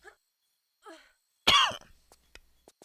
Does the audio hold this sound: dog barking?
no